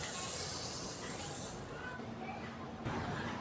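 Split mustard seeds hit about a kilo of hot refined oil for a raw-mango pickle tempering, giving a loud, steady high hiss that eases off after the first second and a half and then carries on more softly.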